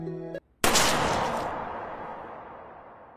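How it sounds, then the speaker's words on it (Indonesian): A single loud gunshot in a film scene rings out right after a brief musical tone cuts off, then a long reverberant decay fades over a few seconds. "Alan kemudian menembak salah satunya sebagai konsekuensi"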